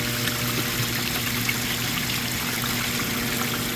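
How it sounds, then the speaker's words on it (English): Water flows and splashes steadily as a koi pond filter is flushed out of debris, with a continuous loud rushing stream, no speech. "Let's flush this out. Let's see how much debris is going to come floating up this bad boy."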